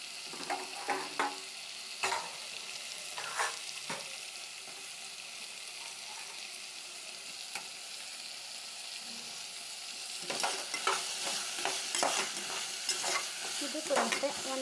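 Cut vegetables fry with tomato in oil in a pan for palav, giving a steady, close sizzle broken by clusters of scraping stirs at the start and again toward the end.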